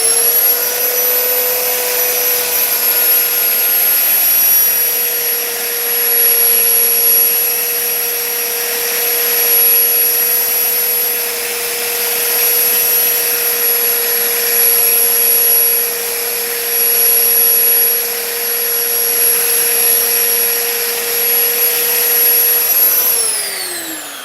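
A belt grinder sharpens a mower blade with a steady, loud whine that holds an even pitch throughout, then winds down at the end; no voices.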